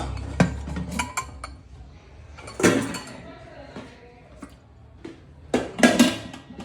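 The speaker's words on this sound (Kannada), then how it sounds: "ಇವಾಗ ಕುಕ್ಕರ್ ಇಟ್ಬಿಟ್ಟು" A metal pressure cooker is set down on a kitchen stove while making a sprouted-bean and greens curry. A few separate clanks and clinks ring out between quieter gaps.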